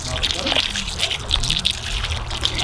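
Water poured onto newly planted Artemisia annua, a steady trickle and splash running into the soil under continuous talk.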